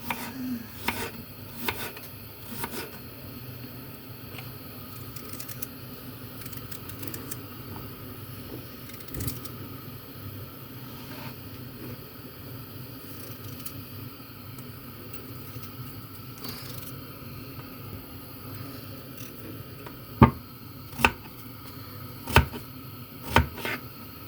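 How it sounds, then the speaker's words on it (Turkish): A knife chops potatoes with faint, sparse taps over a steady background hum, then a few louder, sharper chops come near the end. "Patatesi doğruyoruz."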